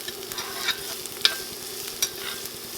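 Diced onion frying for a black rice dish is stirred in a pan: a steady close sizzle with light spatula clicks and taps against the pan, no talking.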